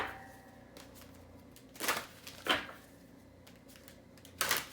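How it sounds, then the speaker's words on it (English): Sacred geometry healing cards are shuffled in a few short, separate riffling bursts at close range, with soft handling noise between them and no talk. "let's get a shuffle on the sacred geometry healing cards"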